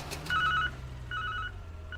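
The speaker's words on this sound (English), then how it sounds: "Sounds like an old car horn, yeah." An old electric car horn on a forklift in a video game sounds in two short buzzing blasts, a rapid warbling ring with a brief pause between them, faint against a low background hum.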